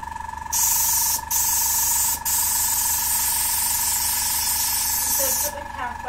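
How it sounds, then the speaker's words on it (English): An airbrush hisses steadily and loudly for about five seconds while a finger blocks the nozzle, forcing air back into the cup. It is used for model making, and the hiss briefly dips twice before cutting off. A steady tone runs underneath throughout. "put your finger over the nozzle and blow it"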